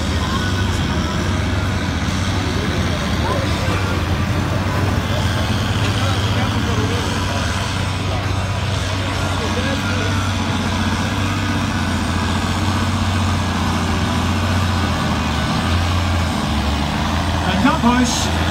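Fendt 916 Vario tractor pulling at a tractor pull event, a loud sustained engine roar with steady low drone running throughout, heard at moderate distance amid crowd ambience and commentary.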